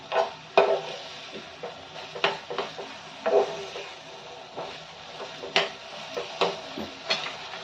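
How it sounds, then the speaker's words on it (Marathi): Cabbage and green peas are sautéed in a pan over low to medium flame, a soft steady sizzle broken by repeated sharp spatula scrapes and taps against the pan at an uneven rhythm. "मी चांगले सुकेपर्यंत याला परतून घ्यायचे"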